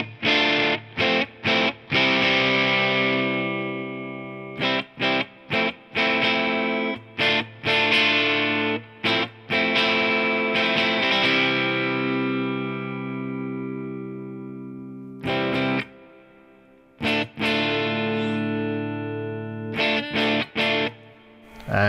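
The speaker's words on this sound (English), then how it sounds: "Drive here is a copy of the Proco Rat and gives us a really well-rounded distortion that goes from a mild overdrive to a pretty heavy distortion" Electric guitar played through a Proco Rat-style distortion model on a Line 6 HX Stomp, sustained distorted chords and stabs ringing out with short gaps, then a pause and a few more chopped chords.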